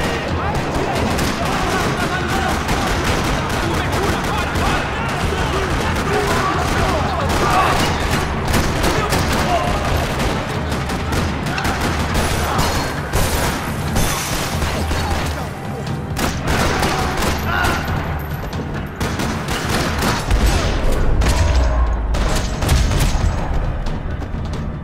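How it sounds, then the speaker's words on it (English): Rapid bursts of gunfire rattle continuously in a parking lot in the video game Max Payne 3, with loud booms and thuds layered over a dense, chaotic soundscape; voices are heard faintly among the shooting. "Another parking lot rattling with gunfire."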